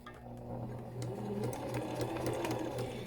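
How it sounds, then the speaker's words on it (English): A sewing machine stitches a straight line on paper, its motor whirring continuously at an even speed with a fine mechanical rattle and no pauses. "Now you're going to slowly press on the foot pedal until the machine starts moving."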